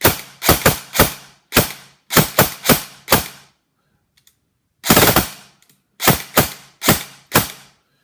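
ICS UK1 Captain airsoft gun running on an 11.1 V battery fires sharp, loud semi-auto and short-burst shots in quick clusters, with a brief pause midway before another burst and more single shots.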